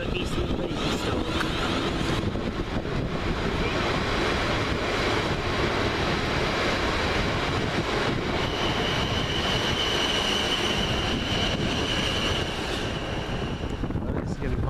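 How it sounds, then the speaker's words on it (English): South West Trains class 444 electric unit 444023 on a Portsmouth Harbour to London Waterloo service, a continuous moderate rushing roar of passing carriages with faint wheel squeal and wind buffeting, a voice speaking over it. "That'll be 444023 with the 1317 South West train service from Portsmouth Harbour to London Waterloo via Eastleigh and Basingstoke"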